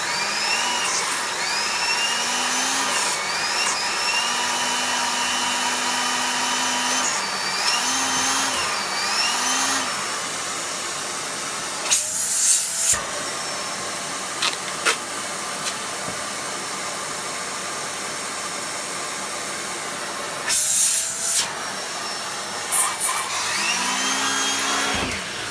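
A Hoover Freemotion vacuum cleaner runs with its suction on, giving a loud, steady whine and rush that holds throughout, broken by a few brief surges and pitch shifts near the middle and end.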